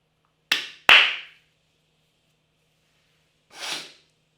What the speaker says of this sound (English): I had to go blow my nose